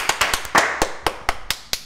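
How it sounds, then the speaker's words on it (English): A small group gives a brief round of applause: about eight sharp, separate, close claps, fairly loud and with no talking. "Give a round of applause, y'all."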